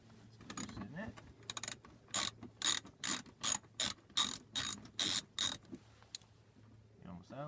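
Screwdriver working loose a screw on a quick release car bumper clip, giving a rapid series of about a dozen evenly spaced ratcheting clicks, close and crisp, with faint speech around it.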